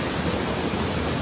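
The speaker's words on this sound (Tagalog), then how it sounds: "Grabe ang baha kasi magulan." Floodwater roars steadily during a sudden flash flood after heavy rain in a village in North Cotabato, a dense, continuous rushing wash close by with no pauses or talk.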